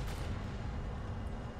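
Tank cannon fire in the Arma 2 military game rolls out as a dense, loud, low boom that fills the short moment without pause.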